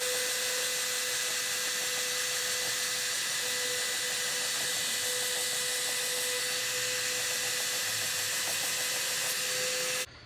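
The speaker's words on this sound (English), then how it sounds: "This is actually the first time I've used a heat gun for removing paint like this." A heat gun stripping paint from an old World War II helmet, a steady loud whirring hiss with a constant tone that runs unbroken and then cuts off at the end.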